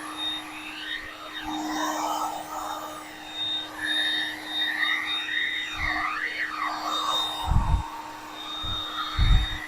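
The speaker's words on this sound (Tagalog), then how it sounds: "Kaya aayudahin nyo na agad ng blower yun para uminit ulit" A heat blower warms the headlight lens adhesive on a Mitsubishi Montero, giving a steady broadband whoosh that holds throughout, with a few low thumps near the end.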